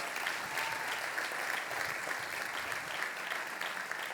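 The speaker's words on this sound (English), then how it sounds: "Give yourself a round of applause" Steady applause from a crowd at a Special Olympics Maryland event, dense and continuous clapping at an even level throughout, with no voices standing out.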